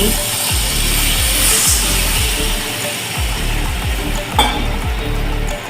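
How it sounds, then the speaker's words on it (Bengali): Pabda fish curry with nigella seeds sizzles loudly and steadily in a pan as water goes in, with low knocks of stirring scattered through the hiss and no talking. "এবার তরকারির জন্য পরিমাণ মতন জল দিয়ে দিচ্ছি।"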